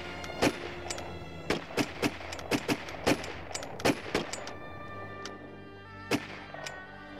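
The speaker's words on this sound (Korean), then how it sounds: "얼마 뒤 총소리가 났다" Sharp gunshots crack out one after another at uneven intervals at Songjeong beach in Gangneung, a dozen or so loud reports against a low background hum.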